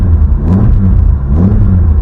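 An MG ZR 160 hatchback with a Scorpion aftermarket exhaust, revving close up with a loud, deep, throaty burble that swells and dips in two pulses.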